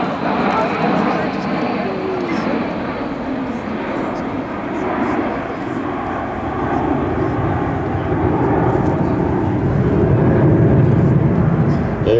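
A B-1B Lancer bomber's engines roar loudly and steadily during an air show demonstration at Joint Base Lewis-McChord, the broad jet rumble swelling toward the end, with a voice talking over it.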